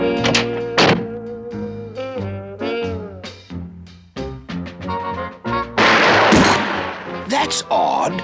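In a Pink Panther cartoon, a silenced gun fires with dull thunks amid cartoon music and character voices, the muffled thuds punctuating the busy soundtrack.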